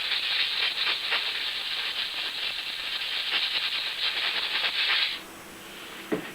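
Compressed air hisses steadily in a continuous blast while cleaning out a locomotive motor, then cuts off with a brief clunk near the end.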